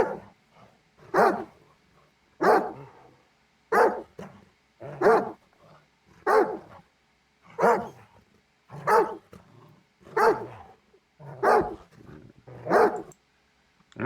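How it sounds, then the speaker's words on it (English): Dog barks from the video game S.T.A.L.K.E.R. 2 played one after another, about eleven single gruff barks at an even pace of roughly one every 1.3 seconds, each slightly different, close and loud with silence between them. "those are the 12 different slight variations of the bark"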